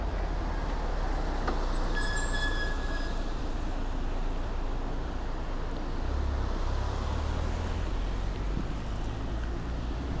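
A train runs along a railway near public housing around Pik Wan Road in Hong Kong, giving a continuous deep rumble with high metallic squealing tones that stays loud and fairly near for the whole stretch.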